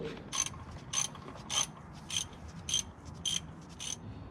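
A ratchet turns a 14 mm bolt on the transmission of a BMW E46 M3 with an SMG gearbox, clicking in seven evenly spaced bursts of quick pawl ticks, close and clear, with no talking.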